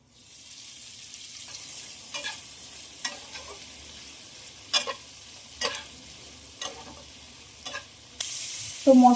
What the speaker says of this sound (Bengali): এবার মশলাটা ভাজার জন্য খুব ভালো করে নেড়ে দেবো।